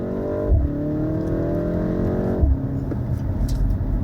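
A 2024 BMW M135 accelerates at full throttle, the engine note climbing steadily inside the cabin, then dropping sharply at a gear change before pulling again, with road rumble underneath.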